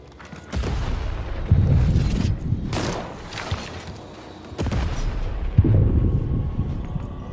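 Repeated deep booms of cannon fire in the video game Lost in Random, heavy thuds arriving in separate blasts, each trailing off into a rumbling echo.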